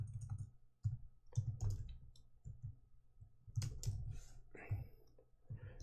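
Typing on a computer keyboard in an irregular series of close, crisp key clicks and clatter with short pauses, no talking.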